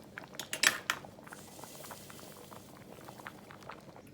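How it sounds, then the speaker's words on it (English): A pot on a low flame bubbles softly and steadily, opened by a few quick utensil clinks against the metal before the quiet simmering carries on alone. "bubbling like this, what I normally do is Gauge the fire low, low, low, and then it will slowly cook"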